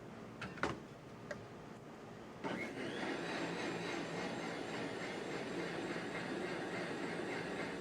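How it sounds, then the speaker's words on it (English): A few sharp clicks, then a blender motor whirs on and keeps grinding loudly and steadily to the end. "On the blender."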